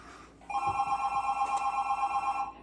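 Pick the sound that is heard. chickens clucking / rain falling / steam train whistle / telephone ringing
telephone ringing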